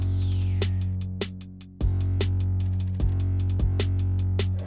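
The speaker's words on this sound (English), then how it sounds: "So all the drums together sound like this." A dark hip-hop beat with all its drums playing together: punchy kicks, snare hits and rapid hi-hats over a sustained low bass tone, loud and steady with one brief drop near two seconds, no talking.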